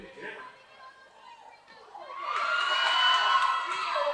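Roller derby crowd at a Tampa versus Mob City game, starting with a quieter murmur and then swelling into loud, sustained cheering and shouting from the Mob City supporters that holds to the end.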